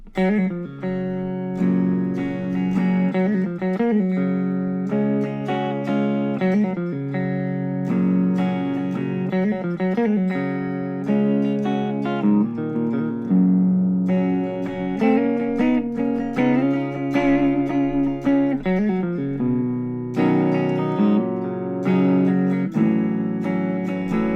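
A clean electric guitar through a Donner M-10 10W amplifier's Fender-style clean model plays a flowing sequence of single notes and chords, clear and ringing, loud and up close with no talking.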